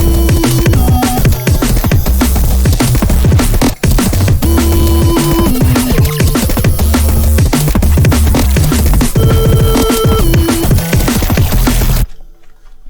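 A self-designed synth melody plays inside a dense electronic track, with steady sustained tones over a full, loud mix that cuts off abruptly near the end.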